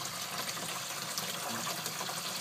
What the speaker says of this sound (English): Bringing in some cold water from about 32 feet deep right there. Big pool hose.